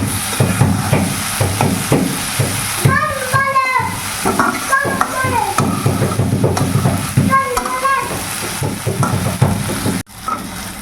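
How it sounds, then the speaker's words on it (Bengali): Greens and potatoes fry in a pan while being stirred, with a continuous sizzle broken by scraping strokes as someone talks over the cooking throughout. "আলুটা ভাজা হয়ে গেছে শাকটাও ভাজা হয়ে গেছে"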